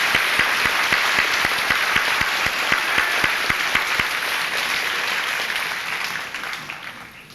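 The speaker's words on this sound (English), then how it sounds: "Let's give these students a nice round of applause" An audience at a high school senior assembly applauds graduating students. The clapping is full and sustained, with a few sharp rhythmic claps standing out, then it thins and fades toward the end.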